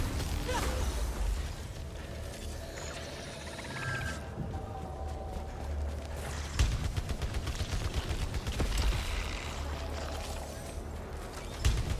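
Turrets in the video game Returnal fire a continuous barrage of rapid blasts and pops over a dense, rumbling game soundscape with mechanical clatter, steady and loud throughout.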